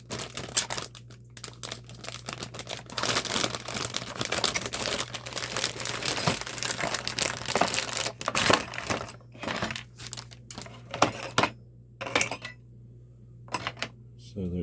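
A soldering gun sealed in a plastic Ziploc bag is handled up close, with continuous crinkling and rustling and occasional sharp clicks, with a person talking between the noises.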